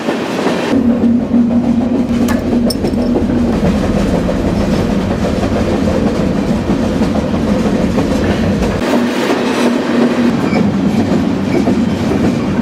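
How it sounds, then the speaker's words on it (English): Freight train cars rumble and clack along the rails while riding aboard on a warm afternoon out of Dallas, a loud, continuous roar with rhythmic clickety-clack and a brief high metallic squeal early on. "And here's me getting on the train."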